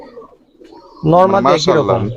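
A Giribaz pigeon of the Jak pilong breed coos once, close and fairly loud, a brief throaty call after a near-quiet moment at a large pigeon farm in Rajshahi.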